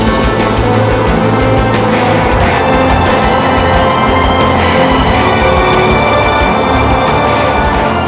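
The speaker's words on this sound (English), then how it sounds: "They run the car up to maximum speed." A car spins its Michelin tyres at maximum speed on a test rig in an acoustically treated room, giving a loud, continuous roar with a strong tonal whine that holds steady throughout.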